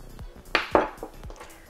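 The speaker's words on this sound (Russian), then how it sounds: "Теперь все хорошо взбиваю." A whisk clinks against a bowl, beating a zucchini batter with a spoonful of flour and milk: a few sharp, close metallic taps and scrapes at an uneven pace in a quiet kitchen.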